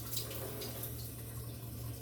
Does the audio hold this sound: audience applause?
no